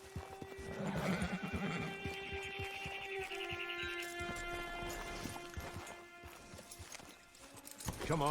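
Horse in the video game Red Dead Redemption 2, with a whinny and clip-clopping hooves over game music and ambient tones. Speech is also present.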